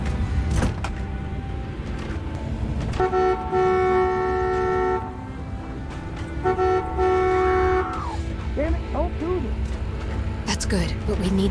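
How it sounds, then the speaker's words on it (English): A car horn in The Walking Dead video game honks in long sustained blasts, held for stretches of a couple of seconds with brief gaps, loud over a noisy outdoor backdrop as voices talk nearby. "If we lean him on the horn, it'll keep honking and draw the walkers."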